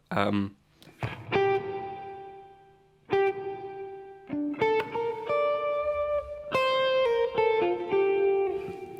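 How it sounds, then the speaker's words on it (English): Guitar chords are struck one after another through a trail reverb effect, each ringing out into a long, smooth reverb tail that fades slowly between strums. "the trail is like a little bit different to a normal reverb."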